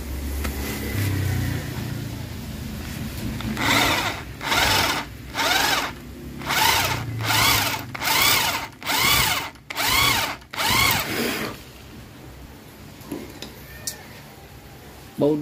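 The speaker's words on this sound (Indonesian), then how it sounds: "Untuk ini kita bor dulu ya menggunakan baut 12, kita bor dulu untuk ini." An electric drill boring a hole while a bearing-puller tool is made, about nine short whining bursts in a row, each lasting about half a second with brief pauses between them, close and loud. Some speech comes before and after.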